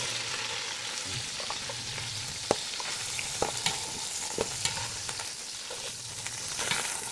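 Chicken pieces partially frying in a pan, a steady close sizzle with occasional sharp crackles and pops rising above the hiss, no voices.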